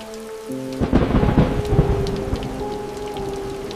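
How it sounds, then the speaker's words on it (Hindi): Heavy rain pours steadily while a loud thunder rumble rolls in and lingers, with a low tonal hum running beneath. "बारिश तेज हो चुकी थी।"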